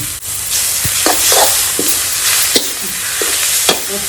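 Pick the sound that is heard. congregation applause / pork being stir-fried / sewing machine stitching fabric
pork being stir-fried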